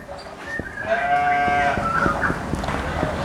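A full-blood Dorper sheep gives a few wavering bleats close by. Faint ticking and clatter sound underneath.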